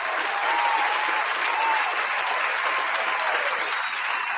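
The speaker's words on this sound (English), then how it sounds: "Let me find my applaud button." A canned applause sound effect triggered from a button, a smooth, uniform roar of clapping and crowd noise that holds at an even, fairly loud level for about four seconds.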